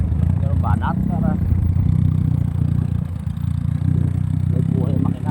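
A motorcycle engine runs steadily at a low rumble for the whole stretch, with brief faint voices breaking in now and then.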